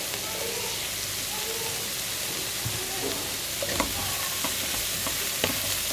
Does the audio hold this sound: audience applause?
no